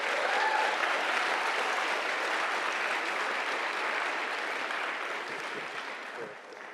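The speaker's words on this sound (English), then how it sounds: "A huge round of applause to everyone." Sustained applause from a large conference audience after lightning talks at PyCon DE 2025, loud and steady throughout, thinning slightly toward the end.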